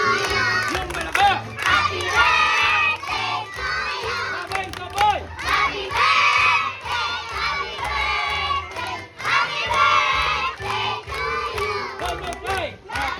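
Children shouting and cheering together at a little girl's birthday party, loud and excited with bursts of voices rising and falling, some scattered clapping, and an adult speaking briefly.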